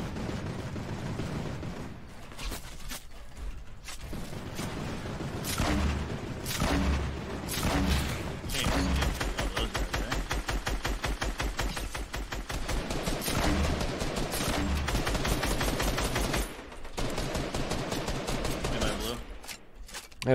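Grenade launcher and rapid gunfire in a multiplayer shooter video game, with dense bursts of shots and booms running almost continuously, briefly easing near the middle and end.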